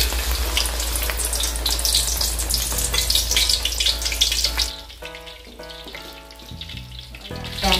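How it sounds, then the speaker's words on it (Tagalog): Okoy batter hitting hot cooking oil sets off a loud, dense sizzle that holds steady for several seconds, then drops to a softer crackle beneath steady tonal background sounds. "ready na po nating ibuhos dito sa mantika po natin"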